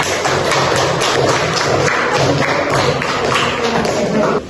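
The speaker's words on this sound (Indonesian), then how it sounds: "Nah, kita beri tepuk tangan" A classroom of students applauding discussion groups, a dense, continuous clatter of claps close by that holds steady at full strength and cuts off at the end.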